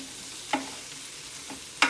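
Shrimp seasoned with paprika and garlic salt is stirred in a hot pan, giving a soft steady sizzle punctuated by two or three sharp utensil scrapes, with no talk.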